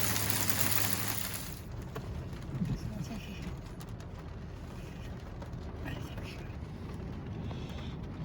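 Hail pelts a car window and hood during a California hailstorm, a dense, steady patter of small impacts throughout, louder in the first second, while a person talks over it.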